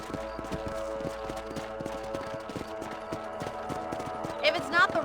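A horse galloping in Red Dead Redemption on PC, with a rapid, steady clip-clop of hooves throughout, close and clear, and a brief whinny-like squeal near the end.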